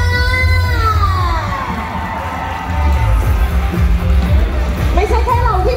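Loud crowd cheering and shouting from an audience at a live show, with children's excited voices and whoops rising together and a singing voice carrying over the din.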